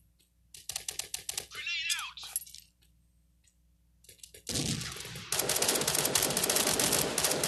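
A gun in a multiplayer mobile shooter played on a Samsung Galaxy Tab fires rapid automatic bursts in quick rattling runs, loud and close, followed by a dense burst of noisy game sound.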